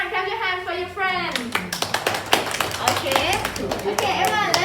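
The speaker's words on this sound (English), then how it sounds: "Clap your hands for your friend." Children in a classroom clap their hands for a classmate, a burst of quick, uneven claps close by with a teacher's voice and kids' chatter over and around them.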